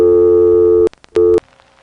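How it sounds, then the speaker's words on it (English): A telephone earpiece carries a steady dial tone, broken by a single short click-gap as the digit 3 is dialed, then the tone resumes briefly and cuts off, leaving faint line hiss and soft clicks. "That is the real sound on the real phone tape of dialing a 3, as recorded off the earpiece."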